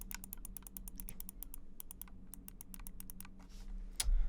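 Quick runs of crisp, close clicks from the side buttons of a Razer Orochi V2 small mouse, steady and evenly spaced, ending in a soft thump, with no voices.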